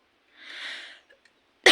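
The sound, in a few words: coughing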